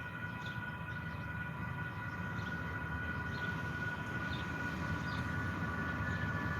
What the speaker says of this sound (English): One train after the other.